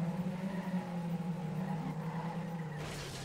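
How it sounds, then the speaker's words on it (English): Car tires squealing in a drift during a racing video game, a sustained tonal screech with engine drone underneath, fairly steady and moderately loud throughout. "I heard drift sounds"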